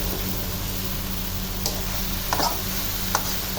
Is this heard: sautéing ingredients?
yes